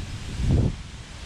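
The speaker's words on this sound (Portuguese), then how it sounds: "A ventania fatal." A strong gust of wind blows past the microphone outdoors, a short low rumbling buffet swelling and fading over about a second with no voices.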